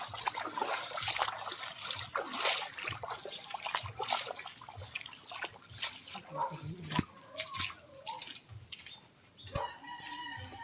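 Steady rush of continuous rain and a nearby river fills the scene, with roosters crowing and hens clucking nearby and faint voices in the background.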